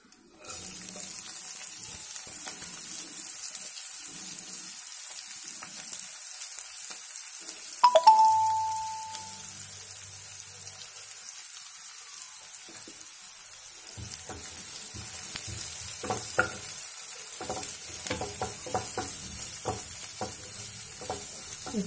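Chopped onion and spring onions fry in a pan, giving a steady soft sizzle through the whole stretch, broken by one short electronic beep partway in and light stirring clatter near the end.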